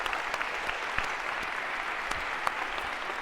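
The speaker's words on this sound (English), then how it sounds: "A round of applause if we could for our volunteers." A lecture-hall audience claps for volunteers, a steady moderate round of applause with scattered sharper claps throughout.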